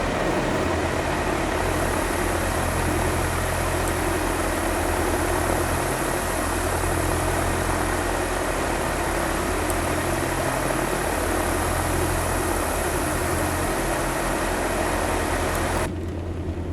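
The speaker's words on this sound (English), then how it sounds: "Let's listen to the engine sounds from the outside." The twin engines of a Diamond DA-62 aircraft in the flight simulator X-Plane are heard from outside as a loud, steady droning hum with low pulsing tones and a constant hiss, cutting off sharply at the end.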